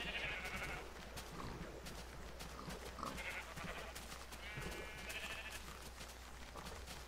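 Several Minecraft sheep bleat on and off at close range, a few separate wavering calls spaced across a steady low game hum, with no voices.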